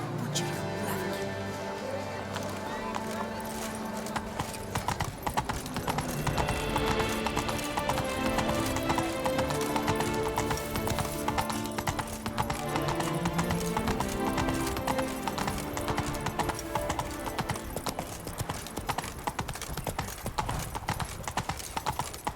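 The horse Roach gallops in The Witcher 3 (Blood and Wine), with fast, loud hoofbeats pounding close in a driving rhythm over a dense musical score, plus a brief whinny and a few words of talk.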